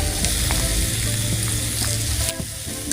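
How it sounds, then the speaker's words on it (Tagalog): Meat sizzling on a grill as it is turned to keep it from burning, a continuous close crackling hiss with small pops throughout, no talking. "Update tayo sa ating iniihaw."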